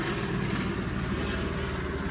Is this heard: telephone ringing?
no